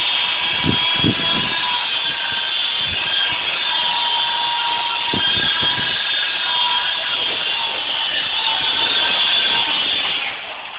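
A small, wind-sensitive helicopter flies nearby with a steady, loud high-pitched whine that holds throughout, with a few low thumps early on.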